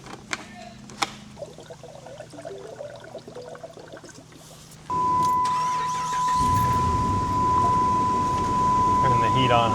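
A 2004–2008 Dodge Ram 1500 engine running after a radiator replacement with the heater on high, a faint idle at first, then a louder steady rumble with a constant whine and blower rush joining partway.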